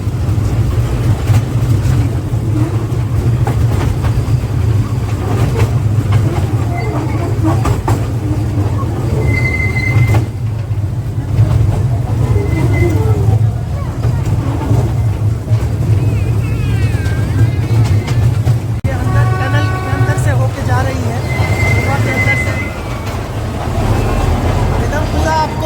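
A museum toy train rides around the Chennai Rail Museum grounds, giving a steady low rumble of wheels on track with occasional squeals and clanks, close and continuous, with people talking faintly in the background.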